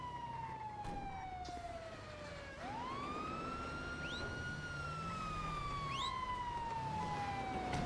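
Police sirens in the GTA video game wail continuously, a sweeping tone rising and falling as they draw closer and grow louder across the clip, with no talk over them.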